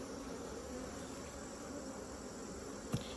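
A yellow jacket wasp buzzes near a honeybee hive, a faint steady drone under low background noise with a single sharp tap near the end.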